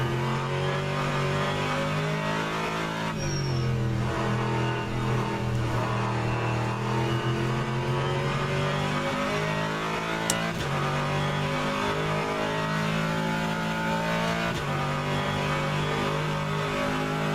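A GT3 race car engine in the rFactor 2 racing game drones and revs continuously, with loud harmonic tones rising and falling through gear shifts across the whole stretch, alone with no talk.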